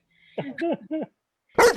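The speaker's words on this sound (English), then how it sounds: "because the dog came on screen, Barkley goes, "Woof!"" A small Shih Tzu dog gives a few short, close barks in quick succession, with a sharper yip or bark following after a brief pause.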